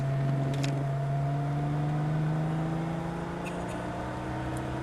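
Car engine accelerating during a driving lesson, a steady hum whose pitch climbs gradually as speed builds, heard from inside the cabin with faint clicks.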